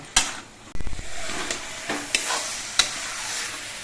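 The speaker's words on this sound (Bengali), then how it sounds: "নুন দিয়ে নেড়ে চেড়ে মিশিয়ে নিয়ে দিতে হবে আর কিছুক্ষণ রান্না করে নিতে হবে" Banana flower curry with salt cooking in a pan, a steady close sizzle broken by sharp scraping stir strokes and a brief clatter.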